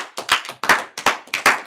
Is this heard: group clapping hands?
yes